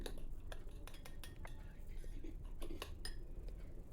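A spoon clinks and scrapes against a dish while jaggery and sugar are mixed, a quick run of bright metallic taps over a low background murmur.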